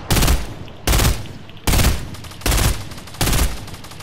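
Fortnite gunfire, five evenly spaced heavy blasts roughly every three-quarters of a second, loud and close with short decays, nothing else in between.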